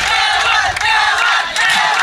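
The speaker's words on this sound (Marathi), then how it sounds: "एवढ्या टाळ्या पवन केने यांच्यासाठी या ठिकाणी वाजतायत" A large crowd roars and cheers in a loud, unbroken wall of voices for Pawan Kini at an Arnala Premier League 2025 welcome event.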